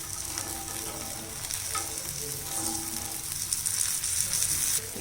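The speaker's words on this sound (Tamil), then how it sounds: "கொஞ்சம் நெய் ஊற்றிக்கலாம்." Ghee poured onto a sprouted ragi adai in a hot pan sizzles with a steady, bright, close hiss that swells slightly toward the end, with no speech.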